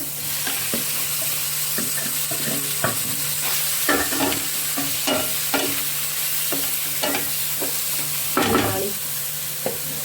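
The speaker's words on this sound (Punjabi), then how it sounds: "ਫਿਰ ਆਲੂ ਮਿਕਸ ਕਰ ਲਓ ਜੀ ਮਸਾਲਾ ਆਪਣਾ ਤਿਆਰ ਹੈ ਤੇ ਸਾਰੇ ਸਾਰੇ ਕਰ ਦਈਏ ਆਲੂ ਮਿਕਸ" Potatoes are stirred into masala frying in a pan, with steady loud sizzling throughout and repeated scraping, knocking stirs at an irregular rhythm.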